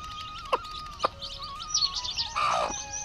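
Newly hatched chicks with a hen give faint high chirps and peeps, a few sharp taps among them, quiet and close.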